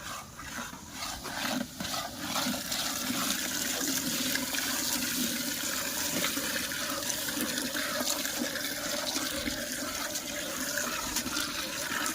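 Water pours steadily into a cooking pot while Girnari khichdi is being made, a continuous rushing splash that lasts the whole stretch with no talk.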